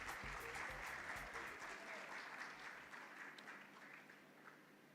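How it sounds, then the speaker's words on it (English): An audience at a motorsport awards gala applauds KCB Bank: a faint, distant round of clapping that is fuller at first and gradually thins and fades. "Can we give them a big round of applause?"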